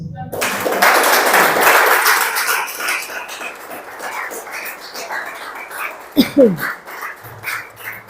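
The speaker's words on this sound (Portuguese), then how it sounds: "Aplauda o Senhor" Church congregation applauding, a dense, loud burst of clapping that builds early and fades through the middle, followed by a dog barking nearby and scattered voices.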